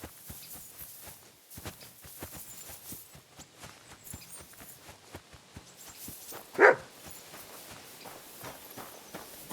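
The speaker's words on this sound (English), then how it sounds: "Barking. He's coming from over there." A dog in the Kingdom Come: Deliverance 2 video game gives one loud, sharp bark near the end, set against a steady clatter of footsteps and hoofbeats.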